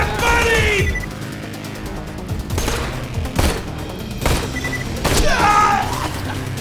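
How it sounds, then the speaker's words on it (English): Bandit rocket launcher fire in the video game Borderlands 2, several heavy booming blasts and bursts spread over a few seconds, loud and close against game noise. "Saw those 3 rockets coming at me."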